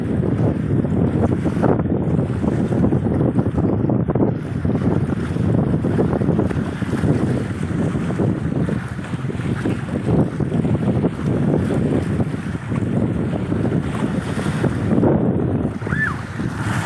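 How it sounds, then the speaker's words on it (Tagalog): Strong wind roars steadily across the microphone at the shore in Dampalit while waves surge and wash nearby, a constant loud rush with no voices and no rain. "Lakas ng hangin, kaya yung alon lalakas din, no?"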